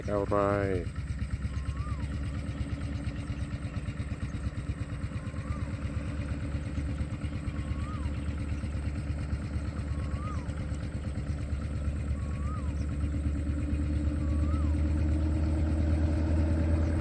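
A heavy diesel locomotive engine idles steadily on Thailand's eastern railway line with a deep, continuous rumble, while someone talks over it and faint repeated chirps sound in the background.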